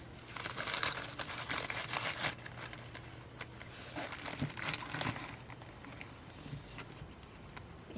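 Crinkly sheets of vellum paper handled and shuffled close up, with continuous crackling and crumpling rustles, bursts of louder crinkling, and brief pauses between handfuls, no talking.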